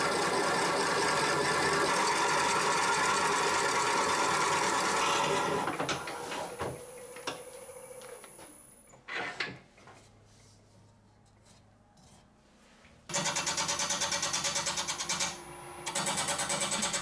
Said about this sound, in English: Here I will be using a set of different Forstner bits ranging from 30mm all the way to 50mm to help with coring the inside of this piece.